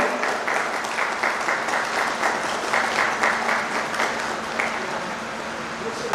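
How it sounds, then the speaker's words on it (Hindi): An audience at a political gathering applauds to welcome the chief guests, a dense continuous wash of clapping holding steady throughout. "कृपा तालियों से इनका स्वागत करें"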